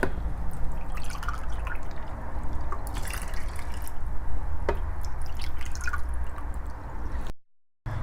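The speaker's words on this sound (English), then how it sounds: "I am going to add 4 cups of water in it and let it stay for half an hour" Water poured over washed yellow lentils for dal soup, a steady splashing and trickling rush that runs nearly unbroken, close and fairly loud, with a brief dropout near the end.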